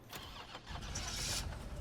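A car engine starts in the survival horror game Resident Evil 3, a short cranking turnover that catches into a rough, rising mid-pitched idle, close and alone.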